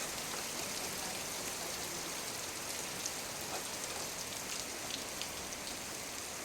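Sliced onions and slit green chilies fry in a pan for a Kerala-style fish curry, giving a continuous, even sizzle and crackle that stays close and steady throughout.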